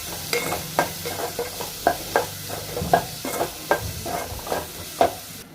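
Onions frying until browned in a pan for Telugu chicken bagara rice, stirred steadily: a low sizzle beneath evenly spaced scraping strokes roughly every third of a second, close and clear, no voices.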